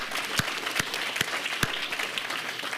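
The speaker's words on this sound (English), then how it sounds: "I want to give a round of applause to Kyle Eisenhower" Steady applause from an indoor audience at an Aggie Muster gathering, a dense even patter of many hands with a few sharper claps standing out, sustained throughout with no talking.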